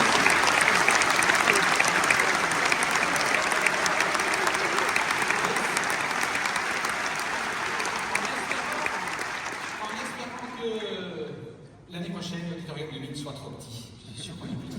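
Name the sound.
audience applause at a business awards ceremony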